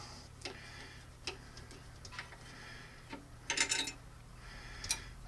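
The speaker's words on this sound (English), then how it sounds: "I'll come in here and tighten it up" Gas block screws on a Grendel rifle being tightened, faint close-up ticks and small metallic clicks of the tool turning, a few scattered taps and a brief ratcheting burst against a quiet background.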